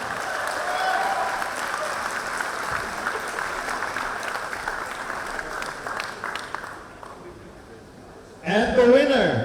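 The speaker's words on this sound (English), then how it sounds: "Again, give them a round of applause," Spectators at a Sri Lankan MMA cage event applaud after a three-round fight, steady crowd clapping that fades slightly before an announcer's amplified voice cuts in loudly at the end.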